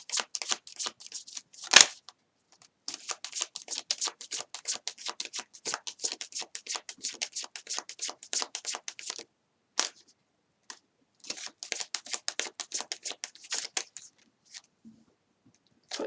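Tarot cards shuffled for a reading, a dense run of crisp riffling flicks and slaps in quick bursts, with a sharp snap near the start and brief pauses between shuffles, close and fairly quiet.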